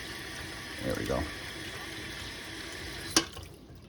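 Tap water runs into a cup for rinsing a fountain pen ink cartridge, a soft steady trickle with a brief louder splash partway through and a sharp clink near the end.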